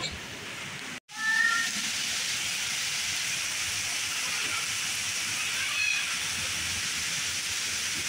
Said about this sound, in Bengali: দেখেছো কত বৃষ্টি হচ্ছে